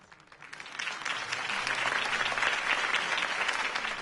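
A crowd claps and cheers in a video game, swelling from scattered applause into a steady, sustained ovation.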